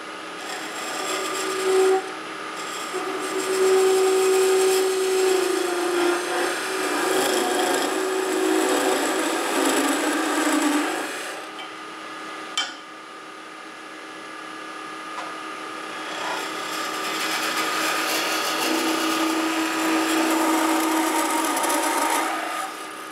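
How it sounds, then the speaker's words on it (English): Quarter-inch parting tool cuts into a spinning wooden kuksa cup on a lathe, a steady close rasping scrape under the motor's whine, pausing briefly midway before resuming. "I'm using a 1/4 inch parting tool because I'm not wanting to make a 1/2 inch wide gap"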